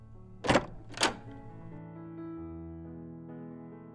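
A room door is opened with two sharp, close wooden thuds about half a second apart, followed by a soft, sustained musical tone.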